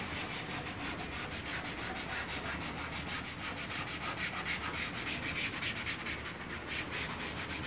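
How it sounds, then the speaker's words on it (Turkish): Steady, continuous scraping of sandpaper rubbed back and forth over faded plastic car trim on a Fiat Palio, close up and even in loudness throughout. "Bu şekil plastik aksamları önce zımparayla temizleyeceğiz"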